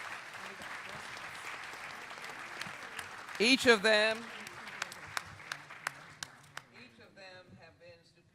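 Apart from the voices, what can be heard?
audience applause for the panel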